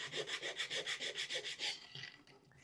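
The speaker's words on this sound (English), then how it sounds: "I'm going to take my sandpaper, I'm going to place it at an angle against one of the tenons and sand back and forth for just a few seconds." Sandpaper rubbed back and forth against the edge of a wooden tenon on a DIY step stool, about a dozen even rasping strokes in a quick steady rhythm, close and faint, then stopping, with no talking.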